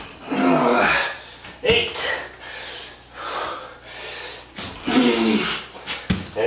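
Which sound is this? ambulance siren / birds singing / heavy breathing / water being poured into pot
heavy breathing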